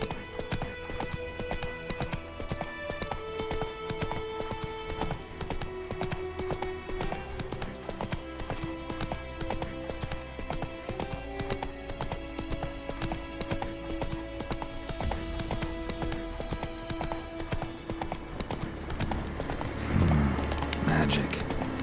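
A horse gallops in The Witcher 3: Wild Hunt on PS5, its hooves a steady, rapid clip-clop throughout. The hoofbeats play under game music and voices and build louder near the end.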